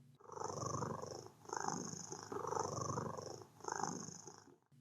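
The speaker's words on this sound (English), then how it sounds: "it started purring like it had before" A creature purrs steadily while being petted, a close, soft rumbling in four or five rhythmic breaths with brief dips between them, heard alone.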